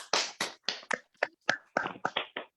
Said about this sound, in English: A big round of applause to both of them.